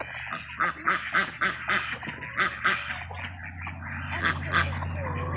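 Pet ducks at their backyard enrichment pond quack in a rapid run of loud, close calls, then softer scattered quacks over a steady low background hum.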